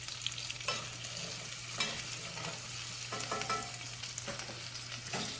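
Potatoes frying with bacon in a pan, stirred with a utensil: a quiet steady sizzle broken by several scraping strokes against the pan, close and with no talk.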